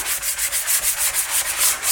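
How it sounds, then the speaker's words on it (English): Hand sanding of a kitchen sink being refinished, a steady back-and-forth abrasive rubbing in quick regular strokes, close and fairly loud with no voices. "I'm just sanding right now."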